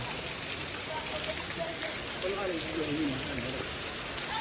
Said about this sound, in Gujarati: જુઓ આ જો અત્યારે કેટલો વરસાદ આવે